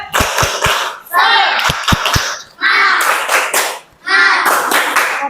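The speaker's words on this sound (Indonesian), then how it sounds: "Beri tepuk semangat. 1, 2, 3. Tepuk semangat." A classroom group performs a rhythmic spirit clap in short bursts of sharp, loud claps. Between the bursts, voices chant together in unison.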